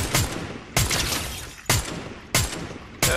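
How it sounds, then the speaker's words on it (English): Pump shotgun in Fortnite firing five loud, sharp blasts at roughly even intervals, each followed by a short decaying tail, with no talk over them. "The pump shotgun is weak."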